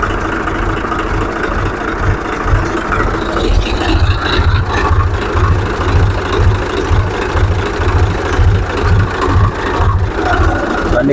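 A 2014 Swaraj tractor with a Kirloskar engine idles close by, its loud low engine throb pulsing in an even, repeating rhythm for the whole stretch.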